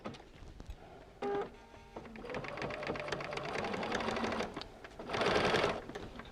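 An electric sewing machine stitches quilt pieces along a paper-piecing sew line, with a brief whir, a pause, then a steady mechanical stitching run and a final faster, louder burst, all close and without talk.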